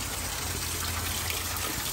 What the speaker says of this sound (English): let's fill up my Gatorade bottle